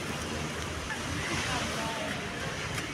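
Arabian Sea surf at the shore near Kochi roars in a steady, unbroken wash of waves with wind rushing over the microphone, constant and fairly loud throughout.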